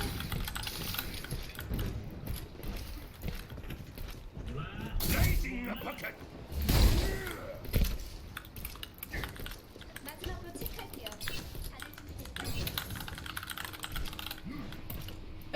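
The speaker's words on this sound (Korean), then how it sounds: "키보드 소리" Rapid computer keyboard typing during an Overwatch game, a dense run of clicks and key taps throughout, with a few louder bursts of clacking partway through.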